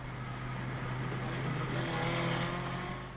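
A Simca Ariane car drives along a straight road with a steady engine drone and road noise, fairly loud and continuous, swelling slightly mid-way.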